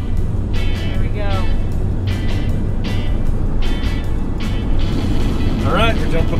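Car cruising on Interstate 80, a steady broadband road and engine rumble throughout, with voices speaking over it at times.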